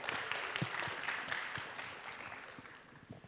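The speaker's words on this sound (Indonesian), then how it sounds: "berikan tepuk tangan yang meriah." Audience applause at a tourism skills competition awards announcement, a dense patter of clapping that stays fairly steady for a few seconds before easing slightly, with low thumps mixed in.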